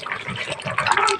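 Boiled water poured into a pot of chicken pulao, a short splashing, gushing pour heard close up with brief low stirring thumps and no talk.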